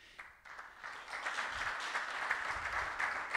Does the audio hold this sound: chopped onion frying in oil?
no